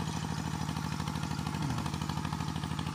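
A small single-cylinder engine on a walk-behind tractor converted into a ride-on plow drones steadily and close while plowing soil, a constant pulsing chug with no talk.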